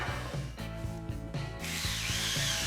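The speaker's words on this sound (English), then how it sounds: "I'm adding this hole to the foot just in case I get liquid inside the table leg" A drill bores a hole into the steel foot of a DIY welding table leg, giving a steady motor whine with rhythmic grinding pulses and a brighter cutting hiss toward the end, close and continuous.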